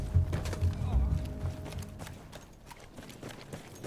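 Horse hooves clip-clop in a steady trotting rhythm, close and moderately loud, in the World War I shooter game Battlefield 1, with background game sounds and faint music underneath.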